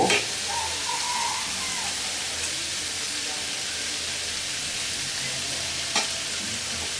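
Sweet pumpkin with black cumin seeds frying in a pan gives a loud, steady sizzle that runs the whole time, broken by occasional stirring scrapes close by.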